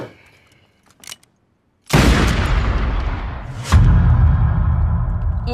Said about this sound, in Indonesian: Weh, Kemal, kenapa kau tembak dia?